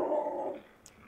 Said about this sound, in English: that's definitely a neighbor's dog